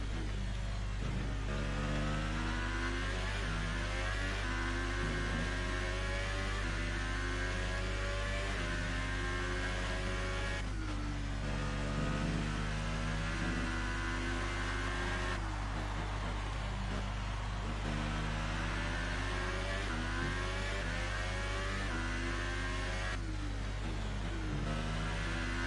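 A Red Bull F1 car's engine at the German Grand Prix in the F1 2018 video game, a loud, sustained whine whose pitch climbs through the gears in repeated waves, alongside a steady low hum.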